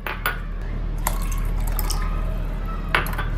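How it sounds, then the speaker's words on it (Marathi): Water pours into yogurt for masala chaas in a few short splashing bursts over a steady low hum, close to the listener, with no talk. "आता ह्याच्यात घालूया पाणी भरपूर सारे."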